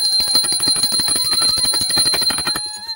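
A brass puja hand bell with a goddess figure on the handle rings fast and continuously for about three seconds, bright and loud up close with no talking.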